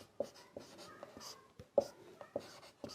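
A pen writes on paper during a maths class, making short scratchy strokes in irregular bursts with pauses between them, close up and quiet in a still room.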